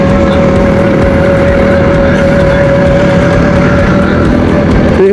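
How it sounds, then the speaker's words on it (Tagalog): A heavily loaded motorcycle cruises along the NLEX expressway, its engine a loud, steady drone mixed with constant wind rush, unbroken and close for the whole stretch. "Ganda talaga na ang kondisyon ng motor ko."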